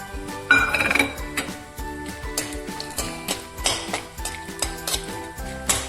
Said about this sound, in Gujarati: આપણે આ ડ્રાયફ્રૂટ તળી લઈશું એટલે કે આ બદામ તળી લઈશું